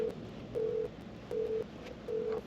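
Three evenly spaced tonal beeps sound on a phone line placing a call, each about a third of a second long, clear and steady over faint background hiss.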